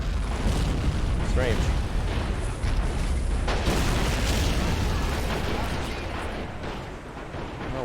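Vehicle firing its ammunition and explosions in Men of War: Assault Squad 2, a 1944 German bridge defense against a Soviet wave: a dense, continuous barrage of booms and bursts with mechanical clatter, loud throughout, and someone briefly speaking over it.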